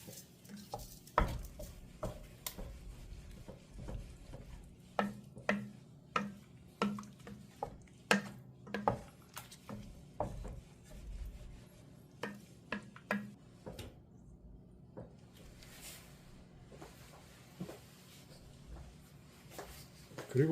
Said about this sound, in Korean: 그리고 잘 저어줍니다